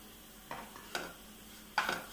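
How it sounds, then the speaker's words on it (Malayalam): Coriander, turmeric and chili powder sautéed in a pan, heard as three short, quiet scraping stirs spaced apart against a soft background, with no talking. "ഇനി ഒന്ന് വഴറ്റി"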